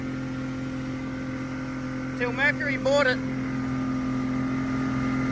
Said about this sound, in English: I think that's like an 80s engine, still kicking.